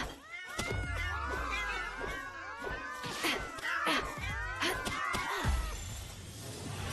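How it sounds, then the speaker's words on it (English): Meowing sound effect of a sword in Palworld, many overlapping cat-like meows repeating rapidly and loudly with clanging game noises mixed in. "I wish I could disable the meow noise because I love this sword"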